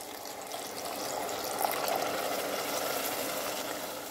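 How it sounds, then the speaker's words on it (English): Water poured into a pot of Nigerian okra stew, a steady broadband rush with no talk over it. "I'll add in a little water."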